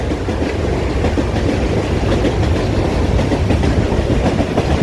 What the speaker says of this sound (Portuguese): Olha o trem.